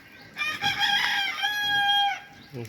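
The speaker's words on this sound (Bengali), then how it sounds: "এগুলোর সাথে আর কি পাল্লা পাল্লি দিয়ে ডাকে" An Egyptian Fayoumi rooster on a poultry farm lets out one loud, drawn-out crow close by, with a brief cluck from the flock just after.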